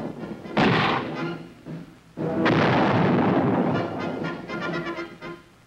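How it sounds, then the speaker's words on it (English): Artillery fire in Vietnam war footage: heavy, loud booming blasts, one early then a longer rumbling barrage with repeated thuds trailing off, no speech. "they hit the enemy with tremendous firepower."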